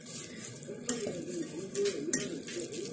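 Utensil stirring spicy Samyang noodles in sauce, soft wet scraping and mixing with a few light clinks against the dish, close and fairly quiet.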